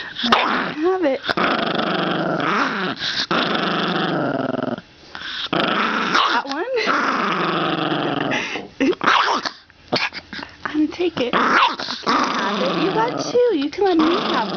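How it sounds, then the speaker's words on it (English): A dog growls continuously and fiercely while being asked for a cookie, with occasional short barks; close and loud, mixed with a person talking over it. "Aw, what a nice dog."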